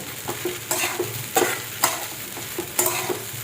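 Soaked sabudana being stir-fried for khichdi, with repeated spatula scrapes and stirs over a steady sizzle, close and moderately loud, no talking.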